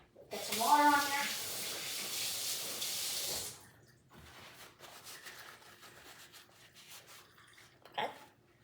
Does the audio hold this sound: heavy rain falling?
no